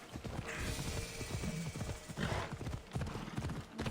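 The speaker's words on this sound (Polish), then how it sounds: "A to zaraz już konia wezwiemy." In the video game Assassin's Creed Odyssey, a horse gallops with fast, rhythmic hoofbeats and a brief whinny, sounding close and clear.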